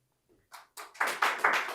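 A small audience at a public speaking session starts clapping, a few scattered claps building quickly into brief, close applause.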